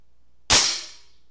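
A single sharp crack from a TX200 MKIII air rifle, the spring action and muted pellet report merging into one close, clean shot that decays over about half a second in silence.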